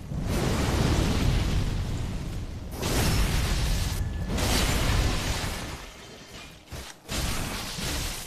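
Fiery explosions roar in Dark Souls 3 at the Purging Monument, with long loud rumbling bursts and whooshes and brief lulls between them, close and heavy with no talk.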